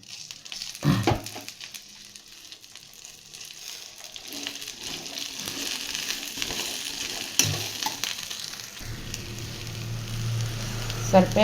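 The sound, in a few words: okra frying in oil in a pan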